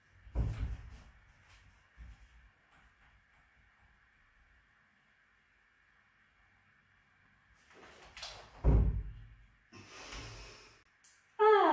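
Breath sounds from a hypopressive breathing exercise, a loud exhale near the start and again around eight to nine seconds with a forceful nasal puff, quiet stretches of held breath between, close to the microphone.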